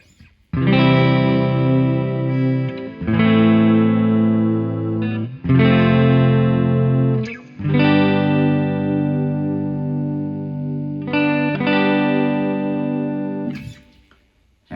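Epiphone Les Paul Custom Pro electric guitar from 2016 on a clean tone with the neck pickup, playing five loud sustained chords separated by brief gaps, ringing out alone.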